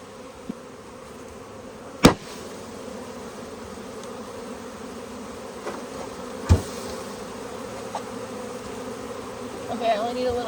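Honeybees drone on a hive frame as a steady, moderately loud buzz that fills the whole stretch, broken by a few sharp knocks and a faint voice near the end.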